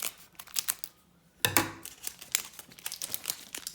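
Pokémon card booster pack torn open by hand, crisp foil crinkling and ripping in quick bursts with one louder tear midway, close and alone without talk.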